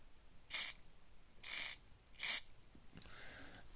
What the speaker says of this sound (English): So using Deoxit D5, and I'm going to spray.